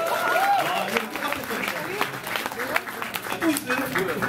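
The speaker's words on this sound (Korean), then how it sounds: "와 박수!" An audience claps and cheers at a lively press gathering, a short burst of applause mixed with excited voices and shouts.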